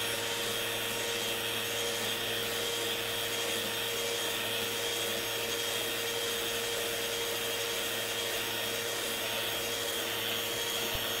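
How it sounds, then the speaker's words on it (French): A power tool whirs with a steady abrasive rasp, repolishing the surface of a repaired Corian worktop, loud and continuous throughout with no talking. "on va ensuite repolir la surface pour enlever l'excédent et masquer complètement le joint et l'assemblage"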